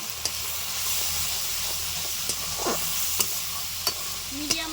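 Spice masala of cumin, coriander, dry chilli powder, salt and turmeric frying in oil for a raw egg dish, a constant hissing sizzle with sharp spatula clicks and scrapes every second or so.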